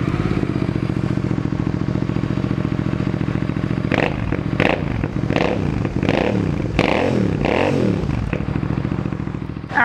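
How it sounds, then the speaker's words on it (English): A Royal Enfield Super Meteor 650 with an aftermarket Canon silencer idles with a deep throbbing exhaust, then is blipped several times in quick sharp revs before settling back to a steady rumble. "this beautiful Canon silencer right at the back that makes the bike sound so much better than stock"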